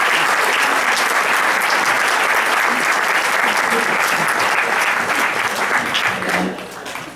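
A loud, dense round of applause welcomes poet Ritu Goel on stage at a Hindi kavi sammelan in Houston, sustained clapping that thins and fades in the last moment.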